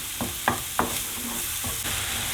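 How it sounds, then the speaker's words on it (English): Constant sizzle of onion, garlic and mushroom frying in a pan, broken by a few scraping stirs of a utensil; no voices. "we're going to carry on frying the onion, garlic and the mushroom"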